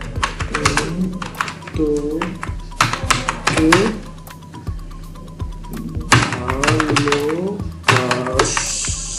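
Typing on a computer keyboard while entering text, heard as bursts of fast clicky keystrokes with pauses between them, under someone talking in Bengali nearby.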